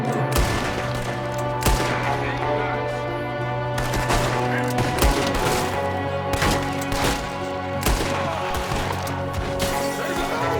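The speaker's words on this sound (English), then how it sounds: "There's another one shooting from the window!" Gunfire in Red Dead Redemption 2, with a shooter firing from a window: repeated loud shots crack over a dense, constant mix of game sound, some in rapid clusters, others spaced a second or two apart.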